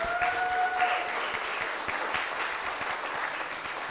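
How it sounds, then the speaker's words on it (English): A crowd claps steadily for a few seconds, a dense wash of applause filling a church hall. "Let's give him a round of applause."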